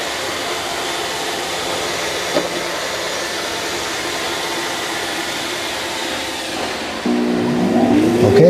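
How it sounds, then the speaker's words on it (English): A Shark AI Ultra robot vacuum's base evacuating its dustbin, a loud steady whooshing suction roar that holds for several seconds and then swells louder with a rising whine near the end. "the Shark's going to back up and then it's going to suck everything out into that dustbin"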